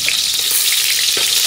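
Garlic frying in a hot pan, a loud, dense, close sizzle with light stirring, no talk.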